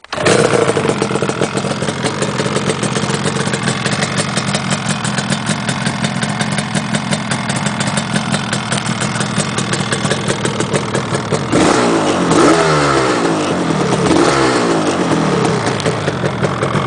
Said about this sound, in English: I will now start this bike with my hands